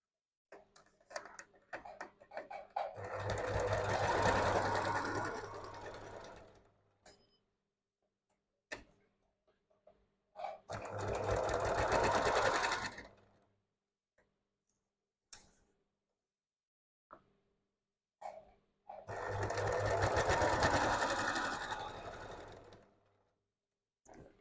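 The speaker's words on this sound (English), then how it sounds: "have my machine stop with the needle down because I'm kind of maneuvering my way around" Three separate bursts of a sewing machine stitching a gathered seam on an upcycled quilted coat, each a few seconds of rapid close whirring, with quiet handling clicks and pauses between.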